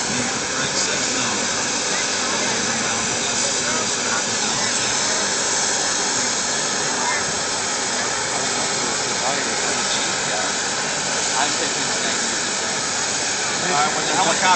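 A helicopter engine runs before liftoff at a high school mock DUI drill, a loud, steady turbine hiss and whine holding evenly throughout, with faint voices underneath.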